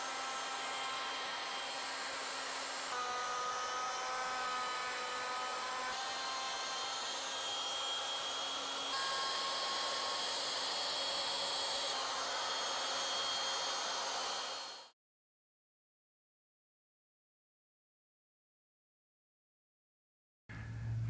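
Legacy ornamental mill router turning wood: a steady, loud mechanical whine with tonal harmonics runs for about fifteen seconds, then cuts off abruptly into silence.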